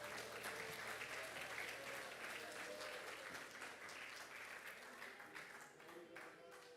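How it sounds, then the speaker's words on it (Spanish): A congregation at a youth church service claps for Christ, a steady, sustained wash of many hands clapping with voices mixed in, fairly distant and low in level. "Palmas, palmas para Cristo."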